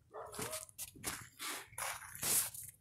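A dying stray dog whimpers and yelps in short, faint bursts, about five separate cries spread over a few seconds outdoors.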